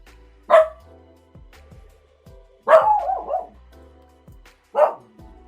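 A dog lets out three separate barks a couple of seconds apart, fairly close and clear, with quiet pauses between them and no talk.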